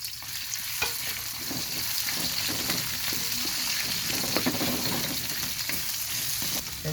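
Onions and garlic sizzle steadily in hot oil for chicken gizzard adobo while a ladle stirs them with occasional scraping knocks, close and continuous, without talk.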